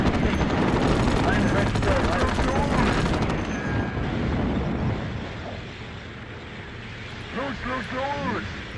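Rapid small-arms and machine-gun fire rattles in a Sudden Strike tank battle, loud and continuous at first before thinning out, with scattered game voices and tones over it.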